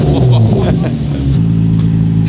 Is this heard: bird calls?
no